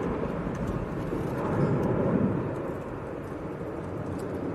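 A Boeing 777 departs Manchester Airport with a steady, broad jet roar heard from a distance. The roar swells briefly midway, then settles back to a constant rumble.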